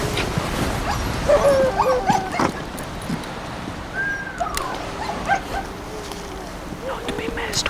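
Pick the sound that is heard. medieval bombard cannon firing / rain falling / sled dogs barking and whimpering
sled dogs barking and whimpering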